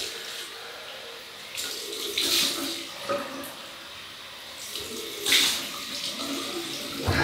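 Tap water running into a sink to rinse off alum after a wet shave, a steady stream with louder splashing bursts as hands or a face pass through it, no talk.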